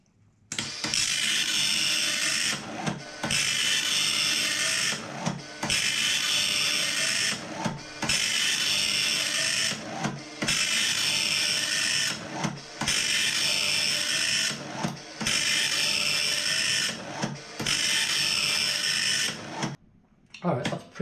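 An Atari 1029 printer runs in test mode, printing in about eight regular bursts of buzzy mechanical chatter, each separated by a brief pause as the head returns, fairly quiet and close.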